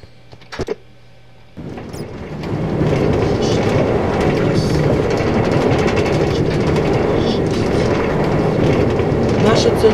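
A Moscow metro train pulling through, starting with quiet station ambience and a few clicks, then a loud sustained rumble with rattling wheels on rails that fills the rest of the clip.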